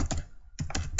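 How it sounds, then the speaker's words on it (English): Rapid typing on a computer keyboard gives a few close, clustered keystrokes, a short gap, then another quick burst, with no speech. "Now when I will start typing here"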